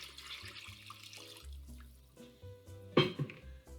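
Water is poured into a pot of vegetarian French onion soup over a cooked flour base, splashing and trickling up close with a louder sloshing burst near the end.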